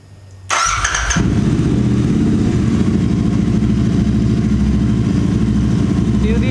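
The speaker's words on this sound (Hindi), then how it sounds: "So let's just start up the bike." A motorcycle engine cranks briefly and catches, then settles into a loud, steady idle that runs close by for several seconds.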